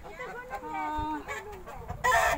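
Turkeys and chickens on a hillside farm, close clucking and fowl calls in short bursts, with a person talking over them and a louder rustle at the end.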